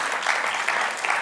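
An audience breaks into applause, a steady dense wash of clapping at moderate volume lasting just over a second, with no voices over it.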